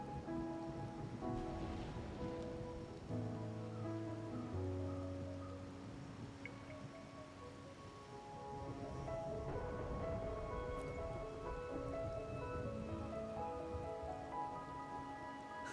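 Steady video-game rain falling continuously under a soft musical score of sustained tones, even and moderately loud throughout.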